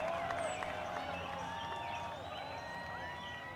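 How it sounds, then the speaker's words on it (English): A distant golf gallery at the Masters murmurs and cheers on the 10th tee, a soft, steady crowd wash with faint whistles and scattered claps carrying over open air. "The crowd love it. They're cheering you both on"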